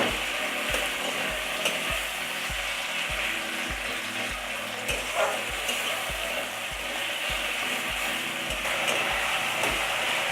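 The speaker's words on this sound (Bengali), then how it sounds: "টমেটোটা যতক্ষণ না গলে যাবে ততক্ষণ আমি এটাকে একটু ভাজবো।" Chopped tomato pieces fry over lowered heat in a pan, giving a constant close sizzle. Regular scraping and tapping from a stirring spoon runs through it, with no voices.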